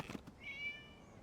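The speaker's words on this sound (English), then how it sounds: "It was just a cat." A cat in the game Genshin Impact gives a single short meow, fairly clear with faint background ambience and no talking.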